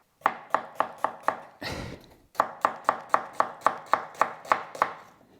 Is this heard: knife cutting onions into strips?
yes